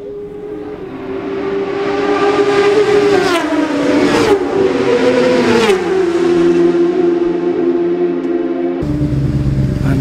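A Yamaha superbike in the Classic TT road race roars past close by, engine pitch climbing, then dropping in a Doppler sweep as it passes and recedes, with a brief distant pass at the end.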